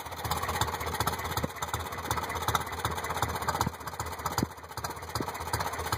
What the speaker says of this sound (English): The idle's down nice and low.